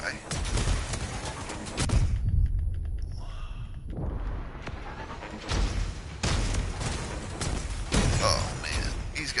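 Bursts of vehicle weapon fire in the combat game Crossout, loud rattling volleys with a short lull partway through, then heavy shots resuming, with someone talking over the fighting.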